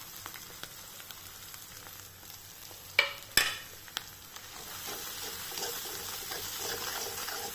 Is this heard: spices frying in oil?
yes